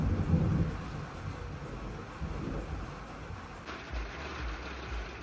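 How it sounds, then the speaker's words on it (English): Rumbling thunder and steady rain heard from indoors on a gloomy, stormy day, a low broad roll that fades into a constant wash of rainfall. "It was gloomy and there was lightning and thunder and rain"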